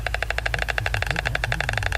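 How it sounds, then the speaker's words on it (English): White storks in Denmark clatter their bills in a rapid, rhythmic wooden rattle, a dense run of sharp clacks repeated at an even pace, loud and close with no voices. "That is the sound of white storks in Denmark."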